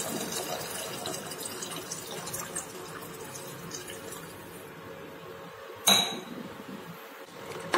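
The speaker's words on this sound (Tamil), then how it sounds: "2 டம்ளர் எம்டி வாட்டர் ஊற்றணும்" Water poured into a pot of rice and mango juice while making mango rice, a soft trickling pour with faint clinks of a metal tumbler, plus one sharp clank of utensils near the end.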